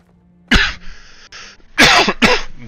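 Close, loud coughing fits from a player recording Operencia: The Stolen Sun, several harsh bursts in quick succession with a brief pause between them.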